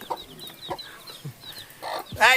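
A mother hen with her black and white naked neck chicks clucks in short, close bursts, with a louder squawk near the end.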